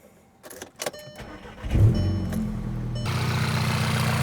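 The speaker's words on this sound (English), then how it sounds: "let's go ahead and start the car real quick" After a coolant tank replacement, a car's starter cranks briefly following a few clicks and key sounds, then the engine catches and settles into a steady close idle.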